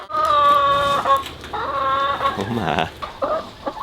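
Hens cluck in a backyard chicken coop with nest boxes, giving repeated loud, close, drawn-out calls across the whole stretch while a person briefly speaks.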